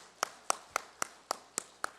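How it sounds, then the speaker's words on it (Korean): Congregation clapping in church during a Sunday service, slow, evenly spaced claps, seven or eight crisp beats about a quarter second apart, fairly faint and with no talk. "예, 박수하시겠습니다"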